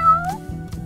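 A pet cat meows once, a clear rising-then-falling cry near the start, followed by quieter rustling and soft background noise.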